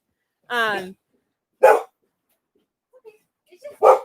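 A guard dog in an off-grid van barks three times, sharp and close, with long quiet gaps and a few faint soft noises between.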